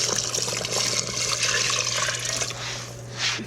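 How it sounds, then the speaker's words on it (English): Water pours steadily into a pressure cooker holding a whole chicken for stock, a continuous splashing rush that tapers near the end, close and alone. "the last thing I need to do is add water"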